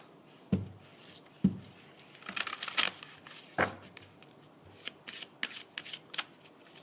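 Tarot cards being shuffled close up and quietly, first with a few sharp single riffles, then bursts of crisp riffling and flicks spread across several seconds, with no talk.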